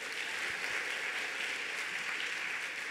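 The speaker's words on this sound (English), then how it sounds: "Go ahead, clap." An audience at an evening talk event applauds steadily, a dense continuous wash of clapping at moderate distance with no voices over it.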